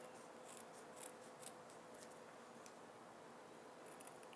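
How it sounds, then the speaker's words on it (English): Soft, close snips of scissors trimming excess paper from around a die-cut floral frame for a card, a few crisp cuts spaced over a quiet background. "with my scissors, I can go up underneath it and trim away the excess"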